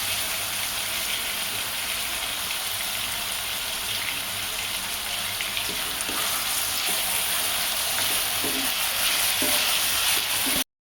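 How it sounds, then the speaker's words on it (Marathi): Onion, tomato and green peas sautéing in hot oil with a little salt for homemade Maggi, a steady close sizzle and fry with occasional stirring scrapes throughout, no talk. "कांदा, टोमॅटो, वाटाणा आणि थोडंसं मीठ टाकून तेलामध्ये परतत आहे ना"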